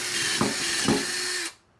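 Power drill boring through a steel ammo can, a loud, steady whining drone with two brief bites as the bit grabs, then stopping abruptly.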